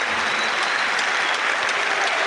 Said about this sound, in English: he gets a round of applause here